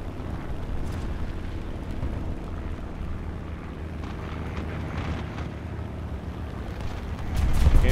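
A 1,000-pound bomb drops in a video game. A steady low rumble like an aircraft engine runs throughout, then a deep, heavy blast swells up loudly in the final half second.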